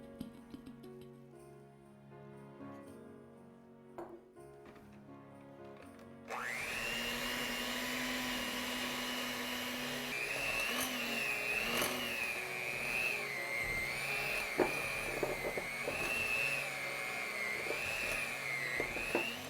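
An electric hand mixer starts up after about six seconds of quieter handling and whirs steadily and loudly, its pitch shifting slightly, as it beats orange spice cookie dough in a bowl.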